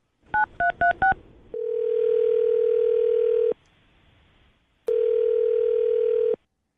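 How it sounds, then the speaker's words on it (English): A telephone keypad sounds four quick touch-tone beeps, followed by two long, steady dial-tone blasts separated by a short silence. The tones are clean and loud, with no voices. "I'm going to dial her phone number right now"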